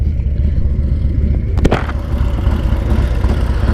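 Harley-Davidson M8 124 stage 3 engine with a mild cam idling up close, a loud, steady low rumbling throb with valve train noise, briefly punctuated by a sharp clack near the middle.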